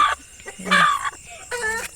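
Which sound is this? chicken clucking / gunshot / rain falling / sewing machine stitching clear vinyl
chicken clucking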